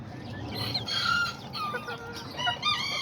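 Miniature roosters and hens cluck and crow close by, several overlapping calls with a short crow rising over steady clucking and no one talking.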